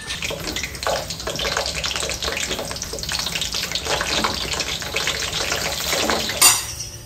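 Eggplant frying in hot oil in a home kitchen, a dense steady crackle and hiss of spattering that runs throughout, close and fairly loud, with a brief sharper burst near the end.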